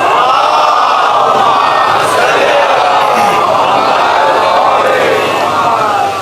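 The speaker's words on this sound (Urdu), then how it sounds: "بھائی سب صلوات ہدیہ کر دیجئے۔" A large crowd at a majlis in Karachi recites salawat together in a loud, sustained, echoing chant of many voices in unison.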